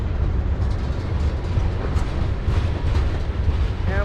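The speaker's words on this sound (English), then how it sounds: "BNSF freight" A BNSF freight train rolls past at close range in Galesburg, Illinois, a loud, continuous rumble of heavy wagons with a brief horn-like tone near the end.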